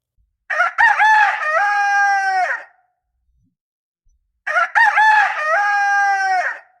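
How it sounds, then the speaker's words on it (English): A rooster crows loudly twice, each long drawn-out call separated by a few seconds of silence. "The rooster, now warm, crowed."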